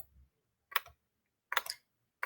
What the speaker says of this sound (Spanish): puedo escribir por el teclado o aquí automáticamente ir seleccionando